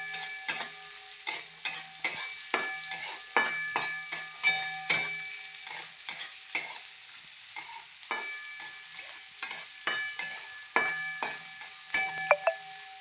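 Onion browning in a pan for potato and pea poha, a spoon or spatula scraping and stirring in steady repeated strokes over a soft, continuous sizzle, close by with no talking.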